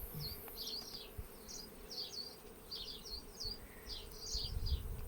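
Honey bees buzz around an opened beehive outdoors in Kaihere, New Zealand, a steady faint drone filled with darting higher wingbeat whines, with no voices.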